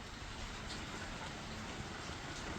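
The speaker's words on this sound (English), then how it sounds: "Every single day I had off, it rained." Rain falls steadily in a continuous dense patter on surfaces, an even wash of drops with no pauses, heard alone without voices.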